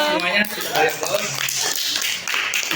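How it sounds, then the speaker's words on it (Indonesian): Pupils in a classroom clap their hands together, a dense, near patter of claps mixed with children's and teacher's voices talking over it. "Tepuk tangan buat semuanya"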